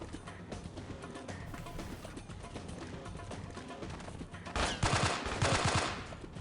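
Full-auto gunfire in the video game Delta Force: Black Hawk Down, a steady rattle of shots running throughout and then swelling into a louder, denser burst near the end.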